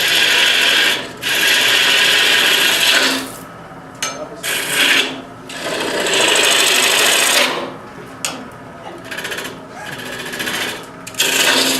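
A woodturning tool cuts at the spinning foot of a calabash bowl on a lathe, giving bursts of loud, rasping scraping that start and stop with short gaps between passes.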